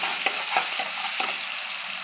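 Ground tomato paste and asafoetida frying in a pan, a soft, steady sizzle with a few light stirring taps in a brief, quiet burst.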